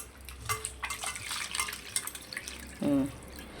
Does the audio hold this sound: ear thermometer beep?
no